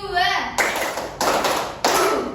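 After a short spoken cue, a classroom of fifth graders bursts into the 'tepuk semangat 2' clap chant: three loud, dense volleys of many hands clapping together, close by and regularly spaced.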